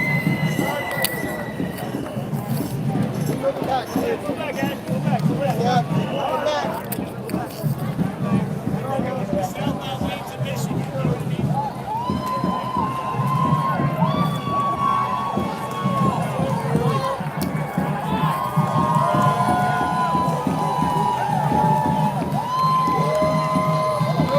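A large outdoor crowd at a No Kings rally in Chicago, with steady loud cheering, shouting and chatter throughout, voices rising and falling in a dense continuous roar, with some talk nearby.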